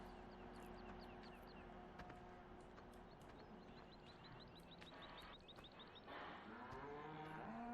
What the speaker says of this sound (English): Here's our cattle.